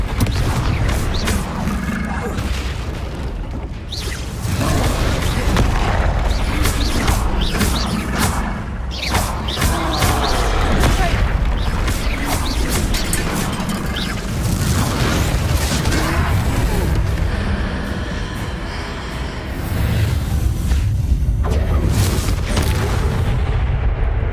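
Confringo spell explosions during a troll fight in the Hogwarts Legacy video game, loud repeated booming blasts and deep rumbles over a dense game soundtrack, with bursts of near constant impact noise.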